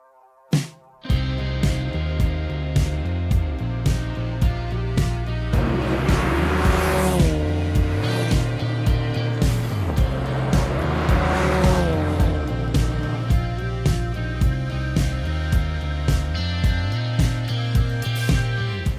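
Race cars roar around a circuit during a Russian Circuit Racing Series (RSKG) round, engines whining up and down through gear changes, with repeated loud passes and tire squeals, no talking.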